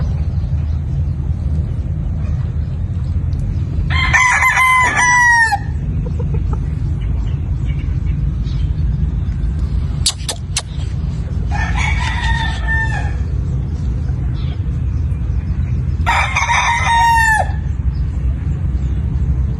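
A fighting rooster of roundhead and sweater gamefowl lines crows three times in long drawn-out calls, spaced several seconds apart, over a steady low engine-like rumble.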